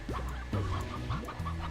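Cartoonish chickens cluck in the game Slime Rancher, several short rising and falling clucks in quick succession, clear and close over a steady game hum.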